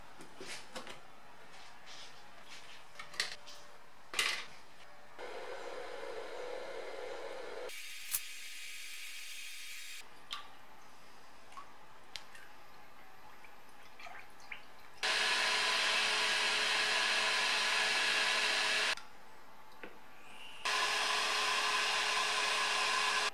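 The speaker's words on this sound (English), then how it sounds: "Once blasted, I polish them up on the wire wheel" Blasted heater and air-conditioning unit parts from a BMW E30 polished on a wire wheel: a bench motor whirs in bursts of steady, hissing grinding, starting and stopping with quiet gaps between runs.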